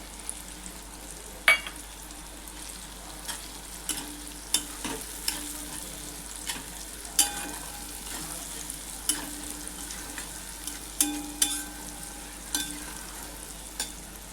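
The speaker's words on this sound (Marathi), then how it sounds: "आता आपला कांदा टोमॅटो परतलेला आहे, त्यामध्ये मी आपले मसाले जे काढले ते टाकते." Spices go into sautéed onion and tomato for Gujarati dal dhokli, frying with a low sizzle while a spoon scrapes and taps the pan in frequent irregular strokes.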